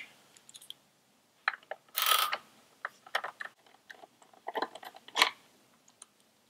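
Several bolts on the rear fender of a 2018 Kawasaki Ninja 1000 / Z1000SX being turned out with a 4mm Allen wrench, giving close, irregular metallic clicks and scrapes in short bursts with quiet gaps between.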